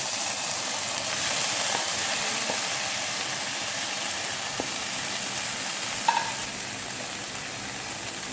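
Microgreens sautéed in a pan with stirring: a steady, moderately loud sizzle throughout, with a few faint utensil clicks and no talking.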